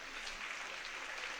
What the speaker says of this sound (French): Applaudis, applaudis Pierre Gerber.